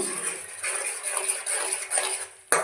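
Tomato paste frying in a pan, a soft continuous sizzle with light utensil clinks while stirring, ending in a sharp knock against the pan, close by without speech.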